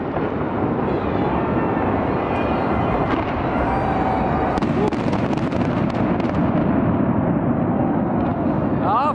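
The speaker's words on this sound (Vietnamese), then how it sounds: "pháo bông lên rồi nè mọi người" New Year fireworks bursting near a launch site at a countdown street party, a dense continuous crackle and boom with scattered sharp pops, all under loud crowd cheering and talk.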